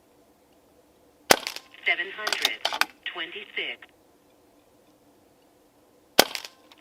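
Two sharp, close cracks of a Barra 1100Z .22 PCP air rifle tuned quiet for backyard shooting, spaced several seconds apart, with a person speaking briefly between them.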